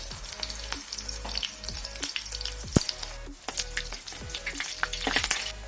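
Garlic and byadgi chillies frying in hot oil for Andhra-style palak pappu, a steady close sizzle with scattered crackles and spoon-stirring clatter, no voices.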